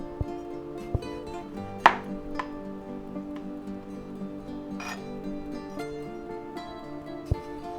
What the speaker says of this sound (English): we'll slice up the other one